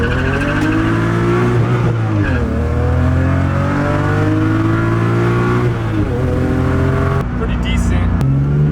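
BMW N52 inline-six engine repeatedly revved hard, climbing and bouncing off its hard rev limiter with rising and falling pitch sweeps, loud and close, with brief voices between pulls.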